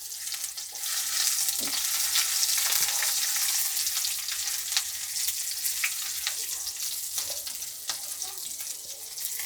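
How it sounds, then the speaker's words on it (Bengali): Dried chillies frying in oil in a pan, a continuous bright sizzle with occasional scraping and stirring taps, close and steady with no talk. "এই শুকনো ঝালকে একটু ভেজে নেব।"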